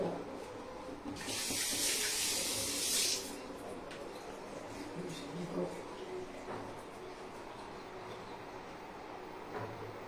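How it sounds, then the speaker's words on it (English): Water running from a kitchen tap as hands are washed, a brief hissing burst near the start that then drops to a faint trickle amid quiet room noise. "I'll wash my hands first"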